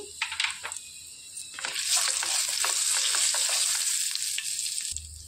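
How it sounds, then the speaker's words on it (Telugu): Urad dal, chana dal and mustard seeds hit hot oil for an amla coconut chutney tempering, bursting into a loud, bright, continuous sizzle with crackles and pops, then stirring scrapes before the frying quickly cuts off, no voices. "ఆయిల్ వేడెక్కేసిందండి. ఇందులోనికి మినపప్పు, శనగపప్పు 1 స్పూన్ వేసుకోవాలి."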